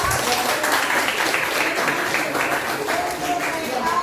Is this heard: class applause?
yes